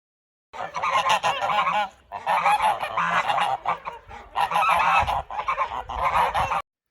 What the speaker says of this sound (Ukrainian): Хто так, дітки, гелготить? Так це гуси.